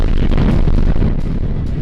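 A heavy wartime explosion in Kharkiv, Ukraine, amid the Russia–Ukraine conflict: a loud, continuous booming roar that rumbles on without pause for about two seconds.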